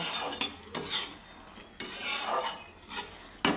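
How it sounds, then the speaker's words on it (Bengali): Potatoes being stirred in a pan with a little raw mustard oil for aloo posto, giving several close scraping, rubbing strokes with short pauses between them. "এখন আমি আবার একটু ভালোভাবে মিশিয়ে নেব"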